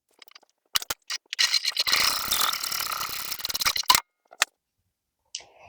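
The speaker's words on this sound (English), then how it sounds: "we're going to do a top stitch across the top of the pocket at about 1/4 inch seam allowance" A sewing machine top stitches across a toiletry pouch pocket at a 3 to 3.5 mm stitch length, a rapid rattling run of about two and a half seconds after a few single clicks, then isolated ticks.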